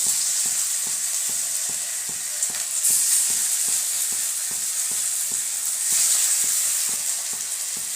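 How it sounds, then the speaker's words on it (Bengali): Beetroot fritters frying in a little oil in a hot wok give off a steady, close hiss of sizzling, with a faint regular ticking running underneath throughout. "এবারে অল্প তেল দিয়ে ভেজে নেব"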